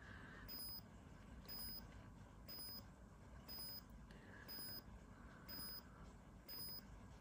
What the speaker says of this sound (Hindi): देखिए बीप बीप कैसे आवाज आ रही है ना।